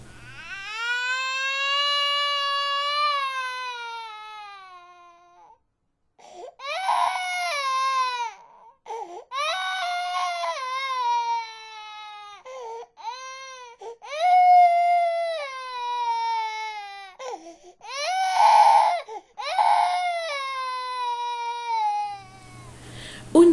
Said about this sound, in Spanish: Escuchó el fuerte llanto del bebé